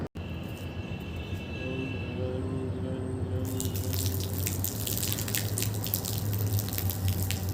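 Water pours in a steady stream as an offering to the sun outdoors, a continuous close splashing that grows brighter and fuller partway through, with a low hum underneath.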